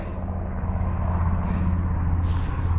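Steady low droning rotor rumble of a helicopter circling overhead near Bude, continuous and fairly loud, with no talking.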